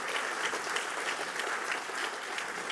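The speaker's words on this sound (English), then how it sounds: "Ladies and gentlemen, a round of applause for Justin Hughes." An audience at a Three Minute Thesis university event applauds steadily, an even wash of many hands clapping with no voices over it.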